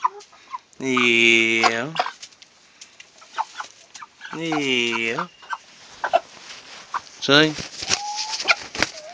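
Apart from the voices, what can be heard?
Cornish chickens clucking on the roost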